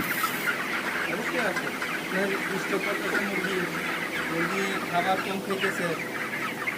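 A crowded flock of chickens in a poultry farm during intense heat clucks nonstop, many overlapping calls forming a dense, steady chorus at moderate loudness.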